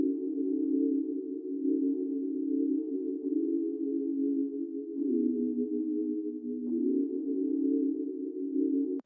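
A synth preset beat from FL Studio, shaped by parametric EQ effects, holds a sustained mellow tone that wavers gently with slight pitch shifts, and no drums stand out.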